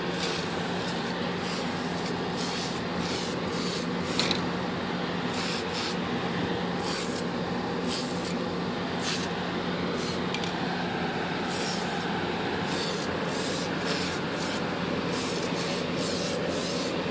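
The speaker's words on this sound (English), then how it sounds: "going to get back to spraying, and this time be an even lighter coat" A spray paint can hisses onto the nose of an Airbus A380 plastic model in short bursts and longer passes, separated by brief gaps, close and steady.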